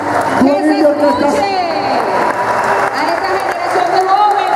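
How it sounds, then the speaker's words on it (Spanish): Audience applause and cheering for a youth orchestra of the national music system at the opening ceremony of a national sports games, a loud, steady crowd roar mixed with clapping and voices throughout. "Quiero que le demos un fuerte aplauso a los muchachos del Sistema Nacional."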